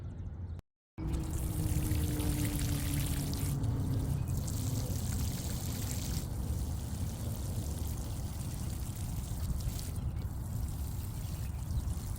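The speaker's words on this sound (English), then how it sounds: "Last step, we gotta water them in." Water pouring steadily onto freshly planted dahlias in a garden bed, a continuous close trickling splash that runs unbroken after a brief gap at the start.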